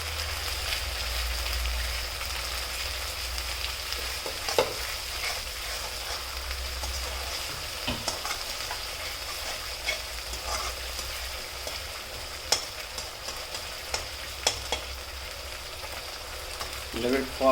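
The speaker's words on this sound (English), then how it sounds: "Leave it for a minute till it gets fried up." Onion and ginger garlic paste frying in a pan for an Indian chicken dish, a steady close crackling sizzle with occasional louder pops and stir scrapes.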